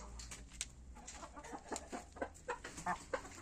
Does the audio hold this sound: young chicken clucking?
yes